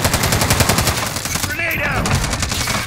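Rapid automatic gunfire in the Call of Duty Warzone video game, a fast, loud, regular burst of shots that continues under game sounds, with a brief voice-like sound partway through.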